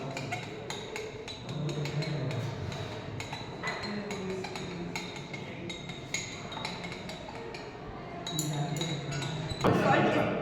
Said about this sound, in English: Now we have to continuously stir it till the salt gets completely dissolved.